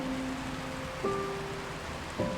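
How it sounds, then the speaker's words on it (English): Steady rain hisses in the video game Until Then, a soft even wash with faint tonal game sounds rising briefly over it. "Yes, rain."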